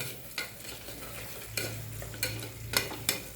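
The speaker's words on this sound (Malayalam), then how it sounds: "ആദ്യം ഇഞ്ചും വെളുത്തുള്ളി അരച്ചത് ഇട്ട് കൊടുക്കുക എന്നിട്ട് നന്നാക്കി വയറ്റി കൊടുക്കുക" Ginger-garlic paste sizzling and being stirred in a hot pan for a fish curry, a steady close fry with repeated sharp scraping strokes of the spoon, no voices.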